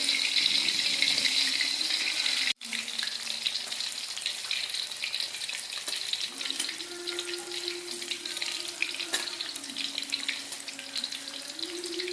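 Steady hiss and crackle of jengkol beans frying in hot oil, continuous and close, with a brief dropout early on and no voices.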